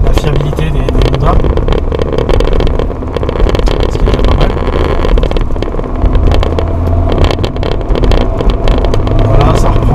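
A Honda Civic MB6 1.8 VTi VTEC with a stock engine hums steadily while driving, a loud continuous motor drone with road noise from inside the car, with someone talking over it.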